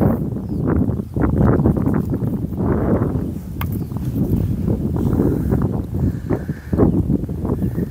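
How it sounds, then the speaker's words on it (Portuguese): Strong wind blowing across a riverbank during a fishing trip, a loud continuous rumbling buffet against the microphone with gusty surges throughout and no speech. "Tá ventando muito aqui, viu,"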